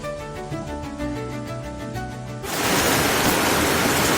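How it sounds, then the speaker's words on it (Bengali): Tonal music plays for a couple of seconds, then a sudden burst of loud, dense heavy rain takes over and pours steadily to the end. "নেমেছে বৃষ্টি, জোরে নেমেছে।"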